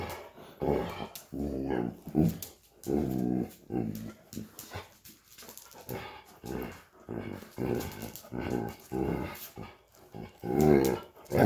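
A dog growls, whines and yips in repeated uneven bursts close by, a mix of low rumbling and higher whimpering sounds, with no talk over it.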